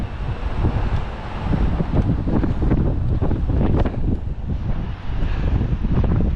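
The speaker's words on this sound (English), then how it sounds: "It's pretty windy as well" Strong wind buffets the microphone in heavy, rumbling gusts on Taipa Grande Hill in Macau, continuous and close, with no talking.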